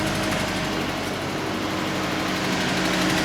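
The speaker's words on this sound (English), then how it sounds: "We're just gonna let it sit here and run for a little while, let it idle." A Nissan truck engine idles steadily after a fuel pump replacement. The hum is even and continuous and stays close throughout, with no talking over it.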